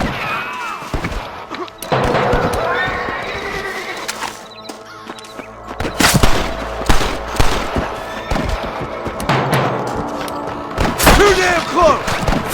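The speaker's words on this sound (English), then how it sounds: "I can hear more gunshots." Gunfire in the western video game Red Dead Redemption, scattered sharp shots and thuds in irregular bursts, mixed with shouting voices and game sounds.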